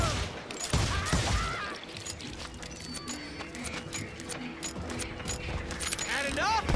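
Gunfire in the Western shooter game Call of Juarez Gunslinger, a dense, continuous fusillade of overlapping shots and clattering impacts, loud and close, with game voices mixed in.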